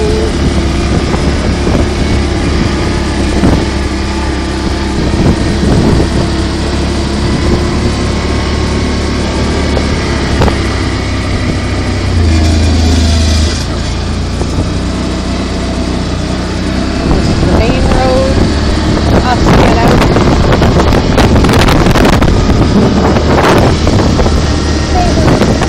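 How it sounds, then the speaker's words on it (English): An ATV engine whines steadily while riding off a property, partly buried under heavy wind buffeting on the microphone, with a voice speaking over it at times. "We're going on Ron's ATV, but I don't feel like driving to mine today"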